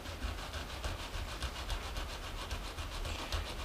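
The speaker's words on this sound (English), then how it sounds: "basically what I'm going to do is just go ahead and file in a groove onto one of the surfaces" A file cutting a groove into a metal pendant, quick rhythmic rasping strokes close by, repeating steadily with no talk.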